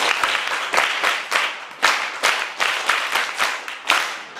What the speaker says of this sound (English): Clap for yourself, so.